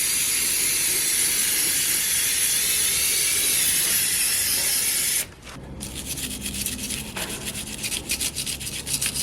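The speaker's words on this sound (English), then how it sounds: "This is electrical contact cleaner, and we're going to give it a good spray down" An aerosol can of electrical contact cleaner sprays in a steady, loud hiss for several seconds, then stops, followed by quieter dripping and fizzing as the spray settles.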